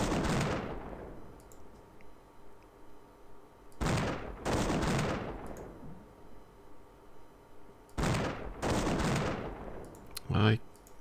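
Artillery fire in the strategy video game Imperialism: several loud booming shots with long fading tails, arriving in pairs a few seconds apart and ending with one sharper blast.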